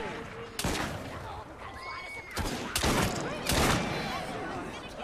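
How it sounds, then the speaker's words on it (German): Several loud gunshot blasts in Assassin's Creed Syndicate, fired in spaced bursts over ongoing game ambience with faint background voices. "Schieß sie mal bitte alle ab."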